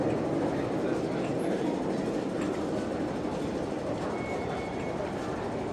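A Hong Kong Metro train rumbles steadily at close range for several seconds, with a broad continuous roar and faint rail clatter, and no clear voices over it.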